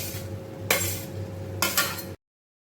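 Cooked rice being stirred into a tomato rice masala in a pan, with soft scraping under a steady low hum and two sharper clinking scrapes of a spoon against the pan before it cuts off.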